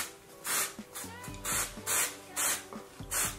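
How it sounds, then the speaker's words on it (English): Bursts from an aerosol spray paint can aimed at hair, five or six short hissing blasts in a steady rhythm, close and fairly loud, with faint low background tones between them. "I'm going to spray paint this."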